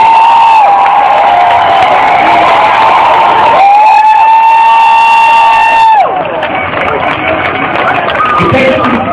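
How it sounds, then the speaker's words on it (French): A protest crowd at Montreal City Hall cheers and applauds loudly and at close range, with shrill whoops and sustained shouting rising over a continuous din of clapping and voices. "il faut s'applaudir."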